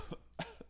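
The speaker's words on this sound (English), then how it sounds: "She's fake coughing." A woman lets out a quick fake cough in three short, dry bursts close to the mic, with a slight throat-clearing quality and no talking.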